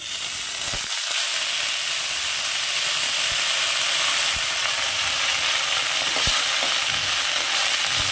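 Coriander leaves dropped into a pan of oil with fried green chillies, giving a steady close sizzle and crackle throughout, with a few sharp clicks and taps of stirring along the way.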